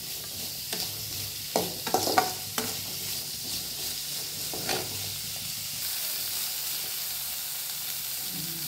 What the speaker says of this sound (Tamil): போட்டுட்டு நல்லா ஒரு ஃப்ளேமில் ஹையில் வச்சுட்டு இதை அப்படி நல்லா வதக்கி எடுக்கணும்.